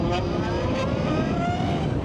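A 2024 Zero SR electric motorcycle accelerates with a steady, loud electric motor whine over heavy rushing wind noise, and no pauses or gear changes break the sound.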